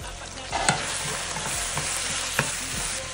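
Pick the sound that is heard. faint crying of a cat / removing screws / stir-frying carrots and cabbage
stir-frying carrots and cabbage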